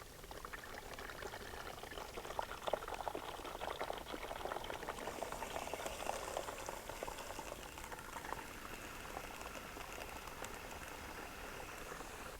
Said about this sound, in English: now we're going to test it, and I'm going to adjust the flow of water as needed